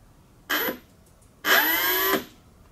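Electric motor of an FMS ASW-17 RC motor glider spinning a large folding propeller, a short burst then a longer whirring run of about a second that winds down, close and loud.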